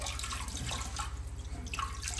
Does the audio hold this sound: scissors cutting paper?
no